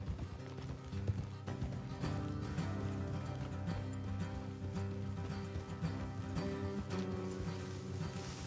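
Horses clip-clop along steadily in Red Dead Redemption, hooves thudding under a continuous bed of music and ambience.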